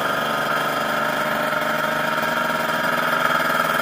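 A Kawasaki Ninja RR motorcycle engine runs steadily close by, giving a continuous buzzy two-stroke drone with no breaks and no talking.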